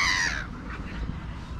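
A gull gives a loud, close, harsh call while gulls mob a dog for treats, the cry fading quickly into quieter outdoor background noise.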